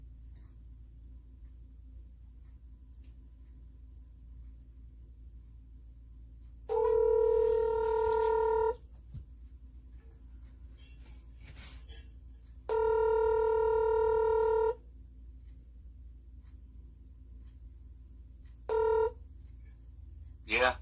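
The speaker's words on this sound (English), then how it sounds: "I need to make a phone call real quick" Telephone dialing tones sound while a phone call is placed: three steady tone bursts, two lasting about two seconds and a short final one, separated by quiet hiss, with no one speaking.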